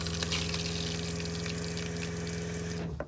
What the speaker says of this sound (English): Now we know we've got some of that antifreeze in the P-trap for the shower drain as well.